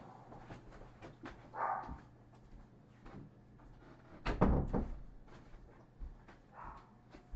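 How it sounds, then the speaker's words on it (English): A dog barks indoors in a home, several separate barks spread through the moment, moderately loud against quiet room tone with some knocking sounds. "Got a dog barking here."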